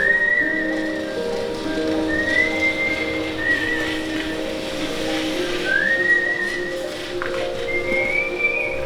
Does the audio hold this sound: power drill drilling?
no